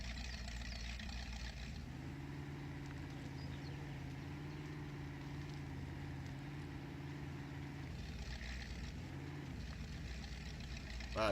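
Truck engine in the off-road driving game Spintires MudRunner idling after starting, a quiet, steady mid-pitched drone with tonal hum that holds for several seconds, falls away, then briefly returns, with no talk over it.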